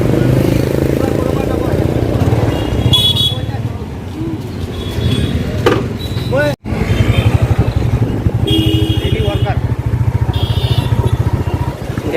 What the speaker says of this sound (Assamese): বাইকৰ ওচৰত যাওঁগৈ এতিয়া।